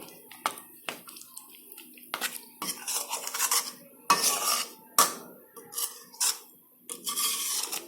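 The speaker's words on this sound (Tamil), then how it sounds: "இப்போ நல்லா கிளறி விட்டுக்கலாம்" A metal utensil scrapes and clinks against a pot while stirring masala for idli kurma, in repeated strokes, close and fairly loud, with no talking.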